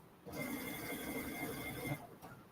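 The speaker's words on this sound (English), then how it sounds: "I do usually sew over the pins in this instance" A sewing machine stitches a boardshorts waistband, running over the pins, with a steady close mechanical whir that lasts about two seconds and then stops.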